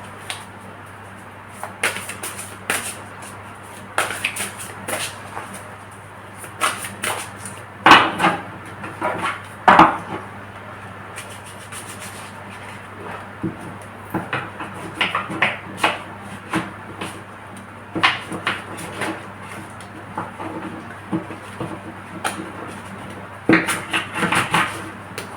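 Tarot cards shuffled by hand in a quiet room, giving repeated soft riffling and slapping bursts with sharper clacks at intervals, close and fairly loud over a low steady hum, no talk.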